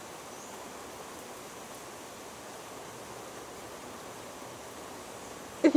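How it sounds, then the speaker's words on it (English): Steady rain falls outdoors, a soft, even hiss with no breaks that carries on throughout, ending in a brief louder bump at the very end. "It's really raining."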